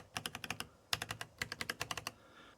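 Clicky keystrokes on a Varmilo Minilo Eucalyptus 65% keyboard fitted with tactile EC Iris switches, typed in quick bursts of several presses separated by brief pauses, close and crisp with no talking.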